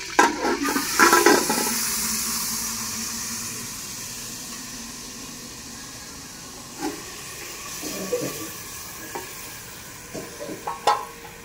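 Water tipped from a cup into a cooking pot already holding ghee and fennel seeds in a Pakistani village kitchen, giving a brief splashing gush at the start, then a softer hiss with a few scattered clinks. No one speaks.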